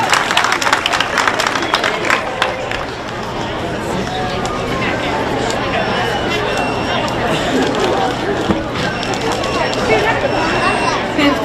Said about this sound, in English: Give that young lady a big round of applause.